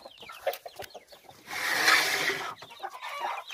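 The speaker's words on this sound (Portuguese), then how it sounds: "Aquela galinha preta com o galo barbudo. Eu botei com a galinzé." Garnizé bantam hen and black crossbreed chickens cluck in short, scattered bursts, with a louder, denser flurry of clucking and squawking in the middle before returning to intermittent calls nearby.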